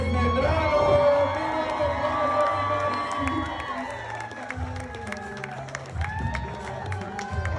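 Wedding guests clap and cheer for an introduced couple, a loud crowd of applause, whoops and shouts mixed with an amplified announcer's voice over steady hubbub.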